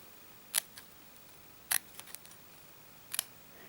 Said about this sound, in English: Now I'm just going to go around that circle, snipping little V's like this, all round it.